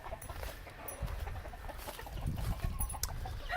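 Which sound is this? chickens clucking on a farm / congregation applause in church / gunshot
chickens clucking on a farm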